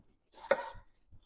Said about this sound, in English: I'm going to just kind of start with some rough chop.